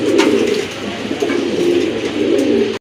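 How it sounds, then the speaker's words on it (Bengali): A large blue bar female pigeon coos in a low, continuous rolling murmur, close and loud, with a few faint chirps from other birds behind it. "হিউজ সাইজের একটা মাদি কবুতর, এটা হচ্ছে আপনার শোকিং এর, এটা ব্লু বার একটা মাদি কবুতর"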